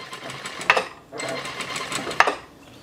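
A sewing machine stitching a shirt seam, heard as two short runs of busy mechanical whirring, each opened by a sharp click, with a brief pause in between.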